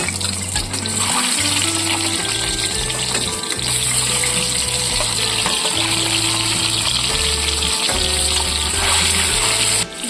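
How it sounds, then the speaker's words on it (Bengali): Eggs fry in hot mustard oil in a wok with a loud, continuous hiss and crackle, joined by steady low tones that sound like backing music, and no voices. "তেল গরম হয়ে গেছে, আস্তে আস্তে ডিমগুলি ছেড়ে দিচ্ছি।"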